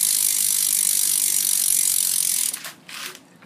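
BMX bike rear wheel with a loud, heavy-duty freewheel ratchet, clicking rapidly and steadily as it spins, then slowing into a few separate clicks before stopping.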